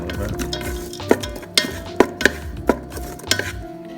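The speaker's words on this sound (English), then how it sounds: "Just give a saute for a minute. Alright, add our ginger garlic paste." Fresh ginger garlic paste sautés for shrimp fried rice in a Ninja Foodi 10 in 1 cooker: a close, steady sizzle under repeated scraping and stirring, with a few sharp clicks of the utensil against the pot, no talking.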